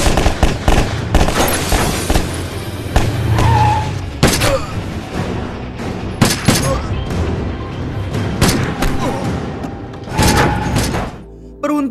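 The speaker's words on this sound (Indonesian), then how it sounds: "tiba-tiba mobilnya meledak. Lalu disusul segerombolan orang bertato yang menembaki senjatanya ke arah John" A car explosion followed by a burst of gunfire from a gang in an action film: loud repeated sharp bangs and booms scattered across the clip, mixed with other film sound effects.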